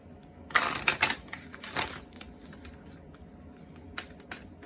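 Cards being shuffled, several quick riffling bursts close up followed by a few lighter taps and flicks, with no talking.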